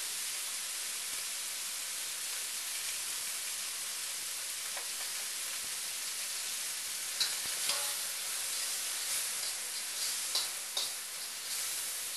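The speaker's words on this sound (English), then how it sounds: "you could smell the fragrant aroma of the minced garlic as it hits the hot oil" Minced garlic and ginger hit hot oil with stir-fried meat for lo mein, giving a steady, broad hiss of frying with a few faint clicks and scrapes near the end, heard close and without talk.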